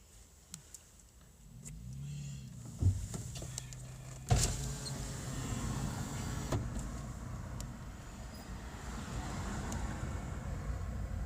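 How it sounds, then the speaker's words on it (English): A car's electric power window slides down with a steady motor whine, preceded by a few clicks and thumps inside the car and followed by wind and road noise through the open window. "put your window down."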